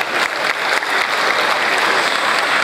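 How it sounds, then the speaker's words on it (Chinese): Warm, sustained applause from banquet guests at a Chinese education charity dinner, a dense close wash of clapping that fills the whole moment without pause. "请大家给自己一个热烈的掌声"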